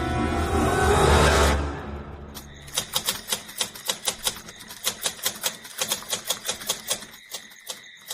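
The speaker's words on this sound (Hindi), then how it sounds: "टाइपराइटर की बटन दबने की आवाज सुनाई दे रही थी।" A burst of whooshing noise gives way to steady typewriter keystrokes, a rapid irregular run of sharp mechanical clacks, close and fairly loud, with no voices.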